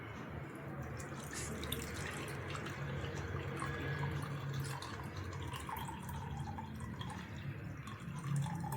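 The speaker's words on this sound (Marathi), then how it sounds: "आता मी हे गाळून घेत आहे." Watermelon juice strained through a sieve into a bowl, a steady trickling, splashing pour of liquid that runs continuously and close by, with no talking over it.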